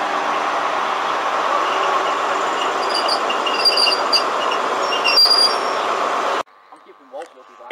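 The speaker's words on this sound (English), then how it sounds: "Here comes an intermodal from Leeds to Ipswich." An intermodal freight train from Leeds to Ipswich rolls loudly and steadily through Newark North Gate station, with wheels squealing faintly over the continuous rumble, then cuts off abruptly near the end, leaving quieter ambient sound.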